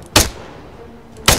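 Two loud, sharp gunshots in the ArmA 3 military shooter, about a second apart, each a sudden crack with a short echoing tail, alone without speech.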